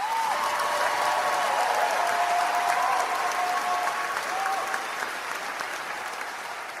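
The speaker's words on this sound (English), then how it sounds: "Sucks hearing that damn applause, doesn't it?" A crowd applauds steadily, a broad wash of clapping that holds at even loudness for several seconds before easing slightly, with a faint tonal whistle or voice drifting underneath.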